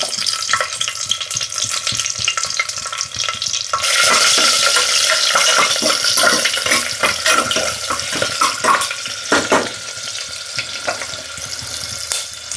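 Green chillies and whole spices hitting hot oil in a small pressure cooker on a gas stove, with a close, loud sizzle that surges after a few seconds and is broken by scraping stirs, without talk.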